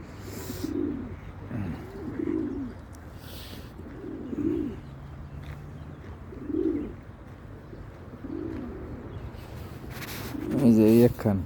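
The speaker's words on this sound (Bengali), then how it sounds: "অনেকগুলি কবুতর।" A flock of pigeons cooing while eating bread at an outdoor feeding spot, low rounded coos repeating every couple of seconds at moderate volume, with a louder burst of cooing near the end.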